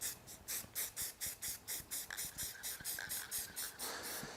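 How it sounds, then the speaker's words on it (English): Spray paint is sprayed lightly across a board in a run of about fifteen quick, even hissing bursts, close and fairly loud, with no talking. "I take my spray paint, I hold it lightly on one corner, and just lightly go across."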